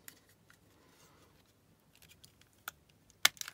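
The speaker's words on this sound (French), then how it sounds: "vous faites ça tout simplement avec vos ciseaux" Scissors snip through a cardboard toilet paper roll in a few quiet, scattered cuts, with a sharp, louder snip near the end against an otherwise near-silent background.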